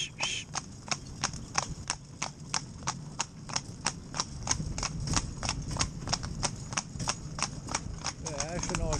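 A pair of horses in tandem pull a carriage with a steady, brisk clip-clop of hooves on a hard road, close and regular throughout, a brief whinny-like squeak near the end.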